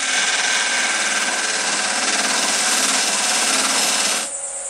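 A spinning machine, likely a wood lathe, turns an open segmented wooden pumpkin, giving a loud, steady whirring hum close by for several seconds before it drops away sharply near the end.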